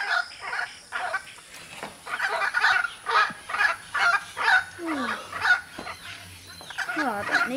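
Wild macaw calling right outside a bedroom, a series of harsh, raucous squawks repeating in quick rhythmic bursts, fairly close and loud.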